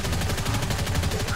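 Rapid gunfire from the Plastic Warfare video game, a dense stream of shots rattling continuously at steady loudness with no talk over it.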